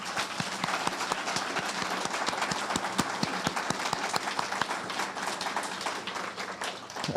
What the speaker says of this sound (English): I think we owe them a round of applause for helping out